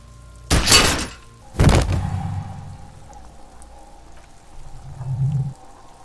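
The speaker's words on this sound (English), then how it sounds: "The buckle explodes into tiny pieces, coming loose with a whir." A belt buckle is shot in Disco Elysium: two sharp, loud shattering bursts in quick succession, followed by a lingering low hum and a soft rumbling tail.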